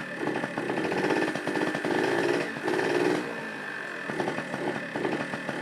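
A Yamaha Towny scooter engine runs at idle in a steady, slightly uneven mechanical rattle with a rough pulsing beat, close and fairly loud throughout.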